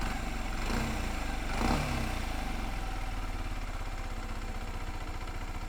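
A small 125cc motorcycle engine idles nearby with a steady, rapid putter, briefly swelling twice early on before settling into an even rhythm.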